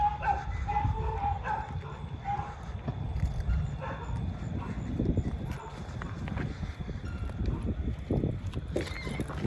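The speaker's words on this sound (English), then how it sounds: "See those dogs in the kennel there." Several dogs in a kennel barking and yipping, with a few whimpers, at moderate distance amid a busy outdoor background of clattering and movement.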